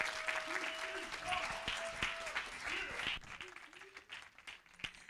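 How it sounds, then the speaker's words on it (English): An audience claps for a poet taking the stage at a documentary premiere, with applause mixed under an amplified voice in a reverberant hall before thinning out toward the end. "let's give her a round of applause and welcome her to stage."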